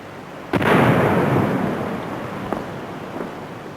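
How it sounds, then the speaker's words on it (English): Blast of nearly two tons of dynamite set off to breach canal defences for a military crossing: a sudden sharp detonation followed by a long, loud rumbling roar that fades slowly, with a couple of smaller bangs in the tail. "That was nearly 2 tons of dynamite."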